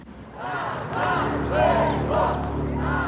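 A large crowd of demonstrators outside the government house in Soviet Georgia shouts and chants in rising, rhythmic waves, loud and close, filling the whole stretch.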